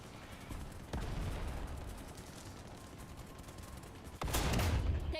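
Weapon fire in a World War II tank video game, a continuous dense rumble of shots with louder sharp cracks near the start and end, no talking over it.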